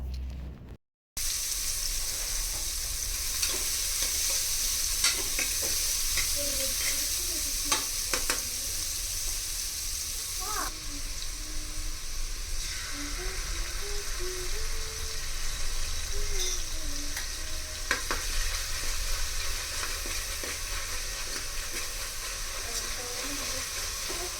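Onions and green chili fry in a pan with a loud, continuous sizzle and hiss lasting throughout, together with occasional stirring clatter and faint background sounds.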